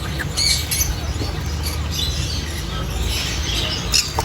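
Pineapple conure parrots squawk and chirp in shrill, repeated bursts over a dense background of other caged birds, the calls loud and close with no clear pauses.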